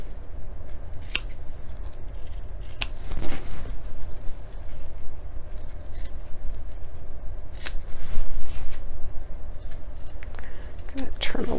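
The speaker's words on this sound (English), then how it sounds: "I'm going to go ahead and trim these corners" Scissors trim the corners of sewn fabric while assembling a tech organizer, giving several sharp, separate snips over a steady background, with a voice talking.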